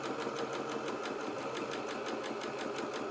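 A sewing machine runs steadily while stitching down a shirt side seam, a rapid, even rhythmic whirring and ticking, close but soft, with no talk.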